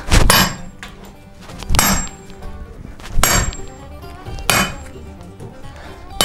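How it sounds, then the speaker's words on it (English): A hammer drives a hot drift through steel while a striking anvil is being made, giving five loud ringing metallic blows spaced just over a second apart, each clang decaying into a short resonant tail. "I don't wanna hammer it all the way home and end up hitting the plate"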